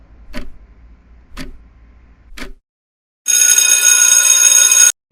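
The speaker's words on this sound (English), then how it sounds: "Timer starts now." A countdown timer ticks three times at an even one-second pace, close and clear, then a loud sustained alarm ring sounds for about a second and a half before stopping.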